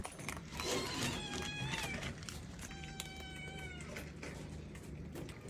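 A sick cat recovering from illness meows a few times close by, drawn-out tonal cries over a low background rumble.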